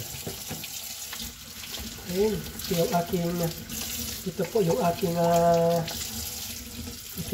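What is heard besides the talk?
tap water running while washing dishes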